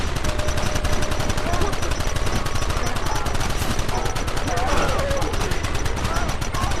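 Rapid bursts of gunfire in the video game Red Dead Redemption crackle nonstop, loud and dense, with shouting voices over the shooting.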